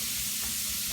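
Bacon sizzling and spitting steadily in a hot pan, a dense continuous crackle with faint stirring knocks underneath, close and fairly loud, no voices.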